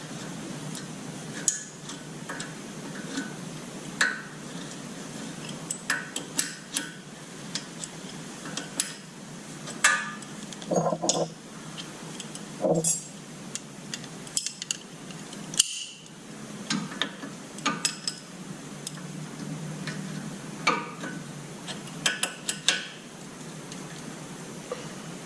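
Rear brake bolts are started and fastened by hand on a Chevy Silverado, producing scattered close metallic ticks, clicks and taps at an irregular rhythm with short quiet gaps.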